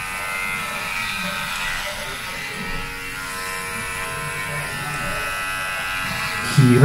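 Electric hair clipper with a 3mm guard cutting hair, a steady close buzzing hum that runs throughout, with a brief louder rattle at the end.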